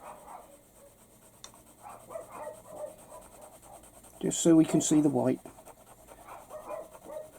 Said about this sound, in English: Sorry if you can hear my dogs barking outdoors.